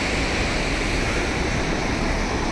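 Glacier-fed river rushing out from beneath a glacier at Sonamarg, Kashmir, a steady, loud, broadband roar of turbulent water filling the whole stretch with no pause or voices.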